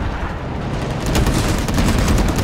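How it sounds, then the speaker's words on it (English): Several tanks in the Call To Arms war game fire together in a dense, loud barrage of booms and rapid cracks that builds and keeps going, with no talking over it. "we're going to get all these tanks to shoot at the same time"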